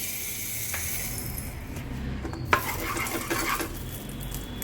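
Food fries in oil with salt and turmeric, giving a steady low hiss throughout, joined by occasional light clinks of a utensil against the pan.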